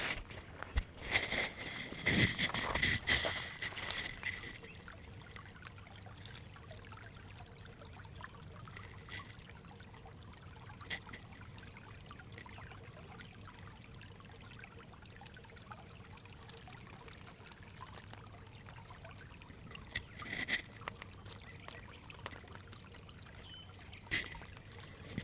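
Babbling brook water flowing outdoors, a steady soft trickling wash with a louder splashy burst near the start, then continuous gentle running water with no voices.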